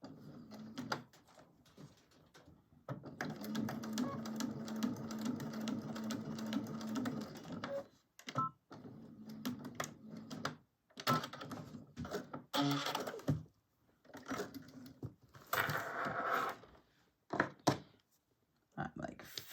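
Sewing machine stitching a small fabric strip for a crossbody bag, running in bursts of rapid whirring interrupted by pauses, handling clicks and fabric shuffling, fairly quiet and close.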